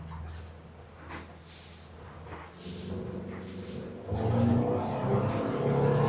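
A Stabicraft 2050 Treker boat with a Yamaha 200 outboard, trimmed at about 40%, makes a whole-shot launch: engine whir rising in pulses, then a louder, fuller surge of power near the end, heard alone without talk.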